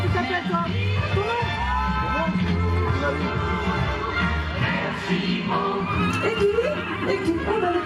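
Boulonnais draft horses at an agricultural fair in Arras, with neighing and whinnying amid a busy crowd, loud announcer-style talk and music continuing underneath throughout.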